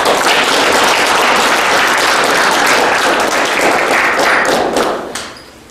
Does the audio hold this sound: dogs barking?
no